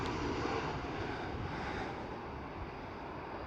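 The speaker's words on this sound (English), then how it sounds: "And right over here, KLM 737." KLM Boeing 737 airliner at Amsterdam Schiphol, a steady jet engine rumble that starts fairly strong and eases slightly as it continues, with no talk.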